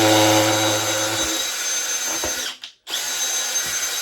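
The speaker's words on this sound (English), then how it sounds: "just use a drill bit and go through the middle, just to get it started" Power drill boring a starter hole through bathroom flooring for a jigsaw blade, a loud close whine that drops in pitch, cuts out briefly, then runs again.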